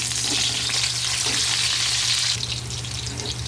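Onion dropped into hot oil with golden-browned garlic for pinakbet, giving a loud, dense, continuous sizzle close up that eases slightly near the end.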